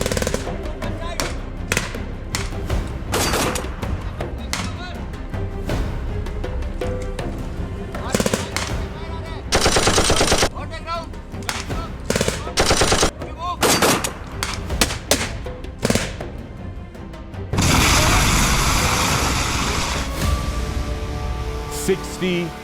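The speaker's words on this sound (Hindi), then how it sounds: "एक दुश्मन की पोस्ट से हमारी तरफ फायर आया" Gunfire from an enemy post at night during a military exercise crackles in loud repeated bursts and single shots, with heavy thuds and dense rattling volleys, up close and continuous throughout.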